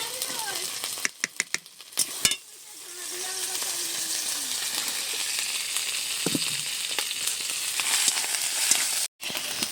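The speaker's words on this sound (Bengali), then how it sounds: "মশলাটাকে বেশ সুন্দর করে ভেজে নিয়েছি।" Spice paste and vegetables sizzle steadily in a pan on the stove, a constant close frying hiss broken early by clinks and stirring scrapes.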